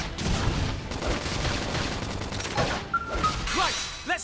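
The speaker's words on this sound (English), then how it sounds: "Flame grenade!" Flame grenade attack in the video game Xenoblade Chronicles X, a burst of rapid crackling blasts and booms that layers into dense battle noise, with brief chimes near the end.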